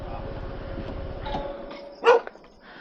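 Pichi, a dog with her puppies, gives a short yip or bark near the end, heard close after a stretch of rumbling background noise.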